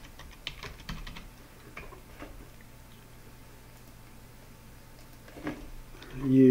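Quiet clicking of a computer keyboard as someone types a username and password, scattered light keystrokes at close range over a low hum, ending with a brief louder sound.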